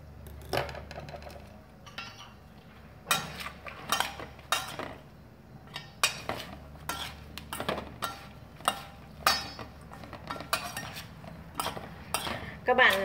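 Metal utensils clink and scrape against a bowl while a crunchy cucumber salad with chopped coriander and herbs is tossed, in irregular bright taps and rattles throughout.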